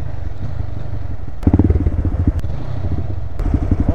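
A Honda Grom motorcycle engine putters and revs nearby, with a low burbling idle, a couple of sharp throttle blips and some clattering, heard alone without talk.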